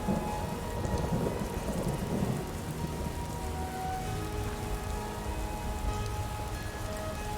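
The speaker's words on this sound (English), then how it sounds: "it conveniently happens to be raining in my save" Steady rain patters continuously with a low rumble of thunder rolling underneath in the video game Skyrim, a dense, even wash of sound with no voices.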